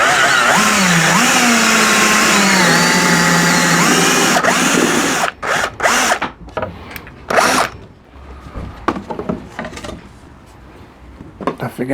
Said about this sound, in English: now I'm going to drill these holes on a bit of gash wood